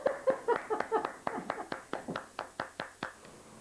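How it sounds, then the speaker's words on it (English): A single pair of hands claps in a steady rhythm, about fifteen crisp claps, close and clear with no voices. "I'm going to give you a round of applause."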